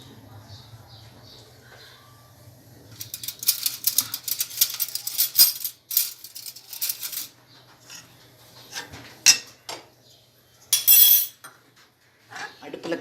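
A metal wok is set on a stove, cookware clattering and scraping in bursts of clanks and rattles, with quieter gaps between and some background hum.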